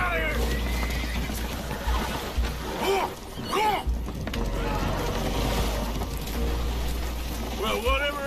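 Spooked horses in Red Dead Redemption 2 whinny and neigh repeatedly in agitation on a vessel taking on water, over a steady wash of rushing water and rain-like noise.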